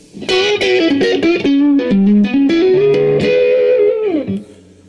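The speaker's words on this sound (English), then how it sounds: "that's the overdrive channel" Electric guitar through the overdrive channel of an Empress Effects Multidrive pedal plays a melodic run of picked, sustained notes, fairly loud and close, ending on a held note that fades.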